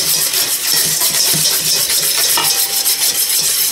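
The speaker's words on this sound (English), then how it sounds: "You're always going to want to keep whisking with this or else you could break your marinade" A maple Dijon mustard marinade for pork chops is whisked steadily in a bowl, a close, fast, rhythmic scraping and swishing that carries on without pause and without talk.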